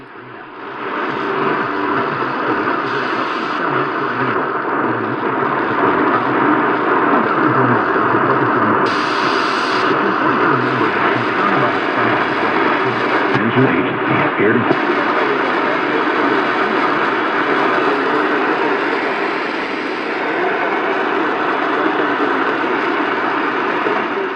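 Steady loud static and hiss from a Tecsun S-8800 radio on daytime medium wave fills the whole stretch, with a faint, barely intelligible AM station buried underneath.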